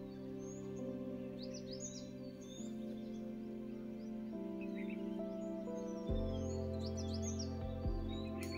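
Birds chirp and sing in the Gir forest on a jungle safari, several high calls scattered throughout over a steady low engine hum, with the hum rising louder near the end.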